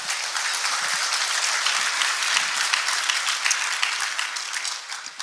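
An audience at a Texas City-La Marque Chamber panel discussion applauds steadily, many hands clapping in a thick, even roar that holds for several seconds and eases off only at the very end.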